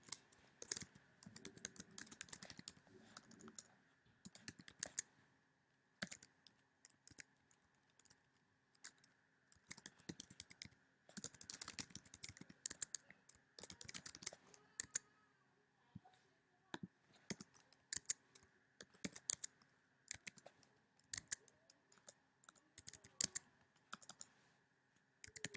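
Typing on a computer keyboard while filling in forms, with quiet, irregular bursts of key clicks and short pauses, close and alone throughout.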